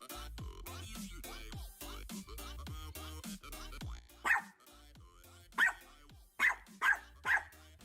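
A dog barks several times, sharp loud yaps in a loose irregular series near the end, while music and a voice run underneath earlier on.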